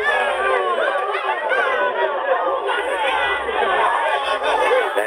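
A crowd in a dramatized French audio story of the Roman de Renard clamors in celebration, a dense continuous mass of excited voices and shouts filling the whole stretch at steady loudness.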